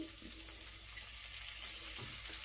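Ginger, curry leaves and garlic sizzling in hot oil with turmeric for a chickpea curry, a steady close hiss with soft crackles and no talk.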